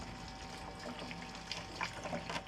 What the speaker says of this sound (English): So all that dirty water is just going right into the back.